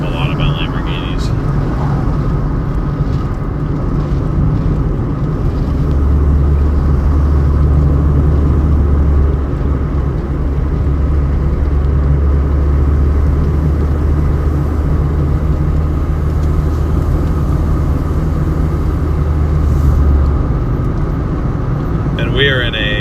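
Interior road noise from a painted silver 1999 Toyota Corolla on the move: a steady, loud low rumble of tyres and engine fills the cabin throughout, with a deeper drone swelling in the middle stretch.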